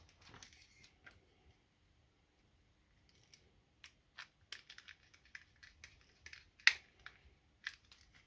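Small screws go into plastic parts of a KITT model car from Knight Rider, heard as faint, sparse clicks and light scratchy ticks of a small screwdriver in a quiet room, close by and irregular.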